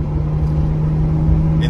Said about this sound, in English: This Turbo S is optioned with the sport exhaust mode, so we got it on. Figured you might want to hear it